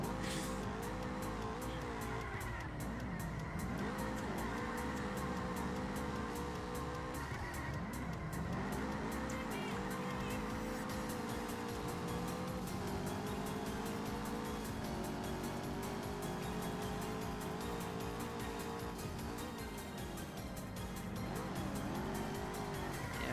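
Racing cars in a video game, a Honda Integra, Mazda MX-5 and Subaru, roar continuously at high revs with shifting engine pitch and occasional tire squeal, loud and steady throughout.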